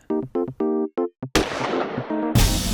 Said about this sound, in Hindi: सर, ये तो गोली चलने की आवाज है।